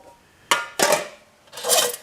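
The inner pot of a Mountain Cook Set is handled close up: three metallic clanks and scrapes, a sharp knock followed by two longer ringing rubs of metal on metal, with no talk.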